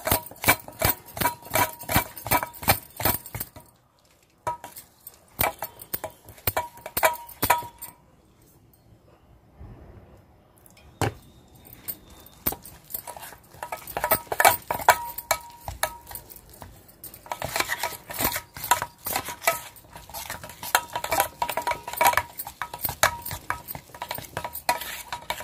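Ridge gourd bajji batter, kept fairly thick, is mixed by hand in a bowl, giving a steady run of soft squelching and clinking strokes. There is a quieter lull partway through before the rhythmic mixing picks up again.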